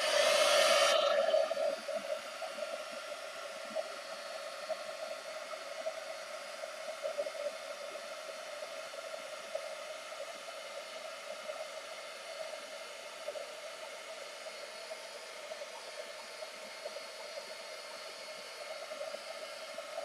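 A heat tool blowing hot air onto a mixed-media journal page, a steady loud whooshing drone running continuously for about twenty seconds, with a slightly louder burst at the start.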